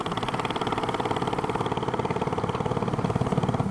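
An old walk-behind tractor engine runs steadily close by, a rapid, even thudding putter with a rough mechanical rattle that holds a constant pace throughout, with no voices.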